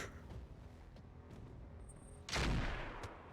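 A mech autocannon fires in RogueTech BattleTech, one sharp, loud blast that comes in suddenly and then fades over a low, faint background.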